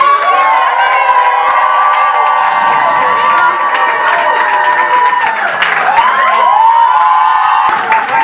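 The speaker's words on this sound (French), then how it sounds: "Donc j'aimerais que vous puissiez applaudir." A crowd at a contest show cheers, shouts and applauds loudly, with high children's voices and whistles over sustained clapping that swells and stays dense for several seconds.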